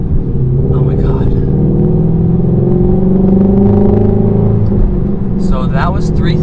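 A Ford Mustang Shelby GT350 engine revs up to about 3,000 RPM with a loud, deep, rising rumble, then holds and eases off, close by and steady throughout, with a person talking over it.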